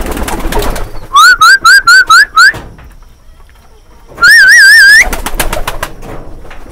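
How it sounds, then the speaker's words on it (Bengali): Pigeons gathered at feeding time call loudly and close by: a run of five quick warbling notes, a pause, then one longer wavering call, with a faint rustle between. "আর এখানে সব কবুতর এসেছে খাবার খাওয়ার জন্য"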